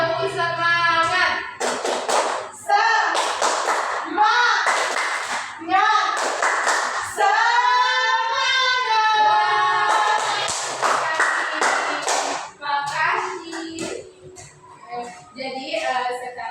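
A class of children does a rhythmic clapping chant, bursts of group clapping alternating with chanted children's voices in a lively call-and-response pattern, close and loud.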